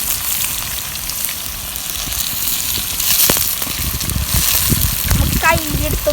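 Tomatoes drop into a clam masala and fry with a constant sizzle, while a spoon scrapes and stirs the pan. A voice talks over the cooking, and the frying swells louder in places.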